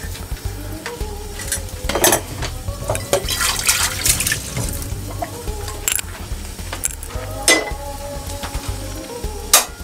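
King fish frying in hot oil gives a steady, loud sizzle with crackling bursts and occasional scraping stirs throughout.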